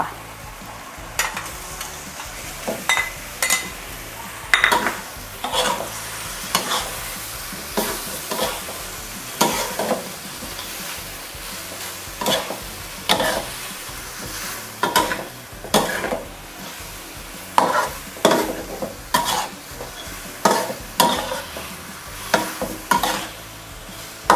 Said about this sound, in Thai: ตอนนี้มะเขือเราสุกแล้วนะ คะ เราใส่ปลากายลงไปเลยค่ะ